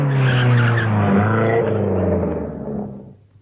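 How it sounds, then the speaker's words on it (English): Two cars race up a main road toward a bull ring, engines roaring loud and close with tyres squealing in a sustained skid that fades out at the end. "2 cars raced up the main road towards the Tarragon bull ring."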